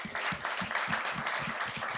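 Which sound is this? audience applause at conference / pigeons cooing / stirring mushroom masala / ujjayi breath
audience applause at conference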